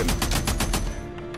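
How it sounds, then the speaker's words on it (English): A rapid volley of about six shotgun blasts fired at the player in the video game Days Gone, loud and close, evenly spaced before fading into a low hum. "Oh, you did not just try to shoot me. The fucking shotgun."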